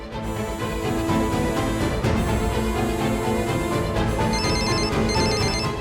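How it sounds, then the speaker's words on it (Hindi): A phone ringtone plays continuously and loudly, a bright repeating electronic melody with no voices over it. "गोपिका मुझे क्लासरूम से फोन कर रही है।"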